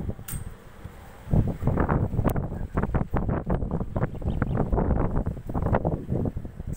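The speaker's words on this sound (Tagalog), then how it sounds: "pag naandyan na yung sumisipol na yung hangin, saka ko uli i-play" Strong wind gusting across a rooftop, a steady roaring, buffeting rush that swells and falls in irregular waves, loud and close, with no voices.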